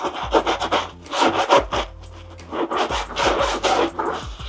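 A stiff brush scrubs gunk and dirt from beneath the sole of a Lucchese leather boot. It makes close, rhythmic bursts of scratchy rubbing with short pauses between strokes.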